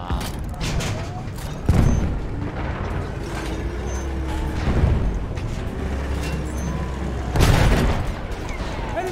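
A tank firing in Battlefield 1: three heavy, booming cannon shots spaced a few seconds apart over a low engine rumble and battlefield noise.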